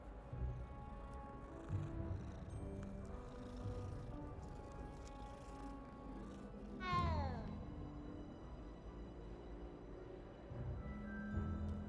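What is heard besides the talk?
cat purring and meowing in Hogwarts Legacy video game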